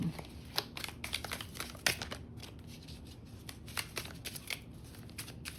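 Tarot cards being shuffled and riffled by hand, a quiet close patter of crisp card flicks in uneven bursts, with faint room hum underneath and no talk.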